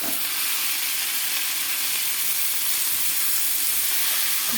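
Basmati rice toasting in a hot pan for an Afghan pilaf, a steady, close, loud sizzle and hiss running unbroken throughout with no talk.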